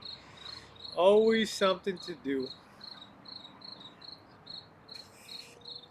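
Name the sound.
crickets chirping outdoors at night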